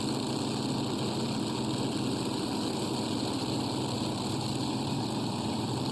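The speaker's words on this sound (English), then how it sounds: "I don't like to talk over the tractors too much." Loud, continuous tractor pull engine roar with a droning, rumbling texture, sustained without a break and no talking.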